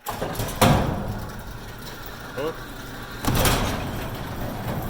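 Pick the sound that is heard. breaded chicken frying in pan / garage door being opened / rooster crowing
garage door being opened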